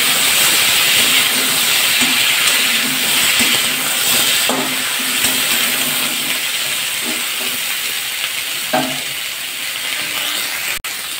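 Chopped vegetables fry in hot oil in a pan for a rohu fish curry, giving a steady, loud hissing sizzle throughout with a few faint clinks and no talking.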